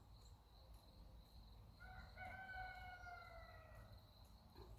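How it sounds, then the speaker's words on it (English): A rooster crows once at a distance, a drawn-out, faint call rising over steady low background noise with a constant high insect-like tone, no talking. "there's a rooster."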